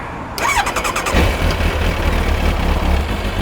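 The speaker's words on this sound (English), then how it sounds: "let's turn the bike on, make sure it's working" A Kawasaki ZX-9R motorcycle engine cranks briefly with a whine, then catches and settles into a steady, close idle.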